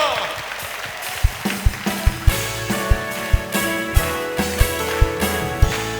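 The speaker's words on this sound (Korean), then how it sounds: "주님의 그 사랑을 우리 박수로 찬양하며 나아갑시다" A worship congregation at a Korean prayer gathering claps in praise. The claps are regular and loud, and they come with a steady beat under music and singing.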